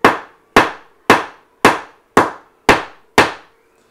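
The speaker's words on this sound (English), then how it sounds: "And give it a tap." Seven sharp, evenly spaced taps knock a laminate flooring plank to close a gap, each a crisp, close wooden knock with a quick decay and no talking.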